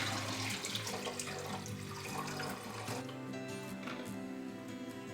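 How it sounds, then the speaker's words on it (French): Homemade fly-repellent liquid is poured through a funnel and small strainer into a bottle, giving a continuous close trickling, splashing flow with gurgling texture for the whole stretch. "je vais la filtrer dans ma bouteille avec un entonnoir et une petite passoire"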